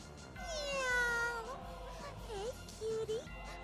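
Cat meowing in a video game: a long rising-and-falling meow followed by two shorter, lower meows, fairly close and clear, with faint game sounds beneath.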